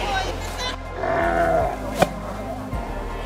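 Pedigree sheep bleating at a summer farm show, a few wavering bleats close by over steady low background hum, with one sharp knock partway through.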